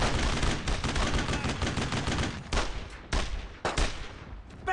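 Gunfire in the World War II shooter game Brothers in Arms: Road to Hill 30, dense loud bursts of rifle and machine-gun fire in rapid overlapping volleys with short gaps.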